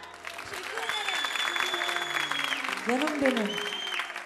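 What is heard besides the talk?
audience applause at a live show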